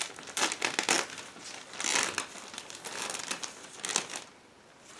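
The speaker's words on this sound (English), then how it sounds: "the plastic is packed into one plastic bag, and now we need scissors to open it" Plastic crinkling and rustling in repeated bursts, close by, as a plastic bag of scale model kit parts is cut open with scissors, with a short quiet pause near the end.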